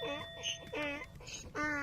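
A donkey on a mountain trail at Petra, Jordan, brays close by in alternating rasping inhale-exhale bursts, a rhythmic hee-haw that repeats several times.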